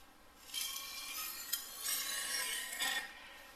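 A kitchen knife is drawn across a whetstone in a few slow strokes, giving a close, gritty rasping hiss that swells and fades with each pass, quiet and without talk.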